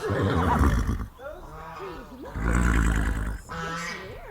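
Mustang horses on a ranch on the Spokane Indian Reservation in northeastern Washington, with two loud, drawn-out neighing calls heard close up, a quieter pause between them.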